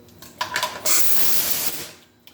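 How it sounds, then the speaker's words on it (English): A paint spray gun from a three-gun set fires at a test board in a steady hissing burst lasting about a second, preceded by a few short trigger puffs and followed by a brief final spurt, close and fairly loud with no talking. "I'm going to shoot the board with my gun too, so we can kind of compare the spray patterns"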